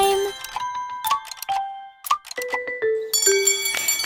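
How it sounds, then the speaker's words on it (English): Bright bell chimes play a nursery rhyme, ringing in a quick sequence of clear struck tones that step up and down, layered into a tinkling melody. "Bells jingled with cheerful sound, melodies danced all around"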